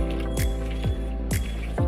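Washed minced meat for kothu kari is mixed by hand with powdered salt, giving repeated wet squelches in a steady rhythm, close and distinct.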